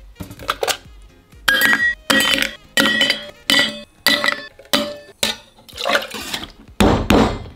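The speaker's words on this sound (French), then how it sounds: "on va pouvoir mettre les glaçons pour refroidir pendant le shake." Ice cubes drop into a metal cocktail shaker in a series of sharp, loud clinking and rattling bursts, roughly one every half second, with a final heavier scoop of ice.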